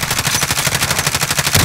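Rapid automatic gunfire from Call of Duty Modern Warfare, a steady fast rhythm of loud, sharp reports packed closely together in one continuous burst.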